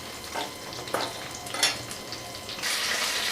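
Labeo bata fish head and fins frying in hot oil: a steady sizzle with a few sharper crackling bursts and a louder spitting rush near the end, close by with no voices.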